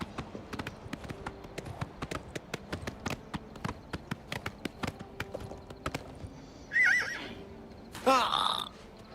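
Hooves clop in a steady trotting rhythm, then a horse lets out two loud, close neighs near the end, in the video game Oblivion.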